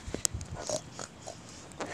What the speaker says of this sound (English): I think the pig said no.